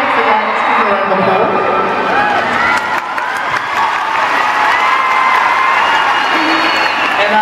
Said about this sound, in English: Let's give a round of